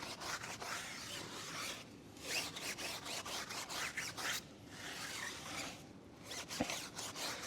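A brush scrubs a car tire with Simple Green cleaner in rapid back-and-forth rasping strokes, coming close and loud in repeated bursts with brief pauses between them.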